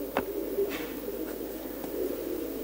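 Racing pigeons coo softly in a low, repeated murmur, with a few sharp clicks mixed in, all quiet and close.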